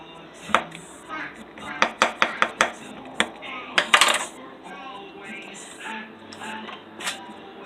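Whole garlic cloves are dropped into a cooking pot for corned beef, giving a run of sharp clinks and taps against metal up close, with a person talking faintly in the background.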